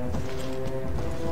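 A horse's hooves clop in the Mount and Blade Warband medieval video game as it wades into a river, with steady thuds over a constant droning game background.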